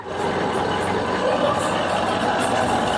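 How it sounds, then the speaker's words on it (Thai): The electric motor of an electric longtail boat runs with the throttle open, producing a continuous mechanical whir and hum at a steady, moderate level, with no speech over it. "นี่คือเสียงของของมอเตอร์ไฟฟ้า"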